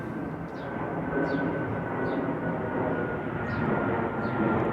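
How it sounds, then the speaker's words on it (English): A plane passes close overhead as a steady broadband roar that stays loud and even throughout, with faint short chirps sounding above it and no talking. "that was a close by plane"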